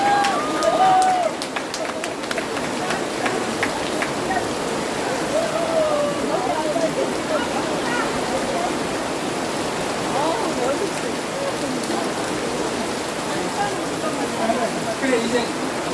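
A heavy rain shower pours steadily outside during a symposium, making a continuous broadband hiss that fills the whole stretch while a voice talks over it.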